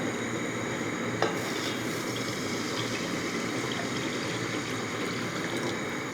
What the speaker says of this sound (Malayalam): ഈ കടായിക്കകത്തോട്ട് ഈ ഒരു പാത്രത്തിന് മുക്കാൽ പാത്രം വെള്ളം അങ്ങോട്ട് ഒഴിച്ചു കൊടുക്കുക